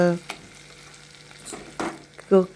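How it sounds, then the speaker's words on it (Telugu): Tempering spices frying in a pan for a home-cooked lunch, a soft sizzle broken by a few short stirring scrapes and clicks, close and fairly quiet, with no talking. "తాలింపది వేగుతుందండి"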